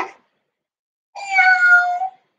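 A single drawn-out meow rings out clearly after a brief short sound, close and fairly loud, a child imitating a cat during a kids' yoga cat pose.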